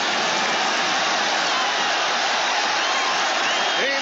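Dense roar of a stadium crowd at a 1978 Seahawks at Jets NFL football game, a steady, loud wash of cheering and noise with no breaks.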